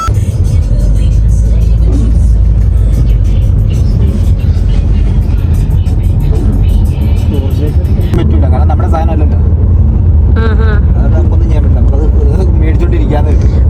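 A car carrying three people drives steadily along, its low engine and road rumble constant beneath the lively conversation of the passengers inside.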